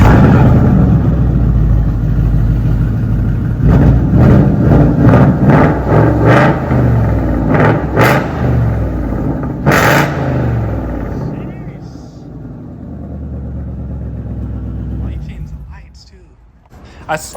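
Ford Mustang GT with a Coyote V8 engine revving in repeated sharp bursts, loud and close, settling into a rumbling idle, with people talking over it.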